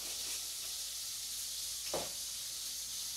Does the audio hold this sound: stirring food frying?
yes